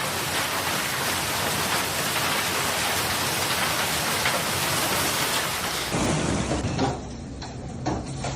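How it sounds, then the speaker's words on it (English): Heavy hail and rain pelt down without a break during a violent Texas storm, a loud dense roar that thins and drops off abruptly near the end. "baseball-sized hail pelted down relentlessly"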